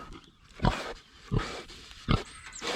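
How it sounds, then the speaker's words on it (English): A friendly old pig at a muddy farm gives three short, loud grunts spaced about evenly, close by, with quieter snuffling between them. "You're a friendly old Piggy"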